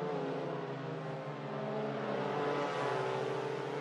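A Mazda MX-5 race car in a racing sim, circling the VIR full course, holds a loud, steady engine whine with layered harmonics that climbs slightly in pitch as it revs, close and alone without speech.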